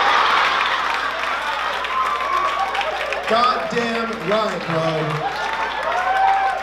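Steady applause from a stand-up comedy audience fills the room, continuing under a comedian's loud talking with a few swells of louder clapping.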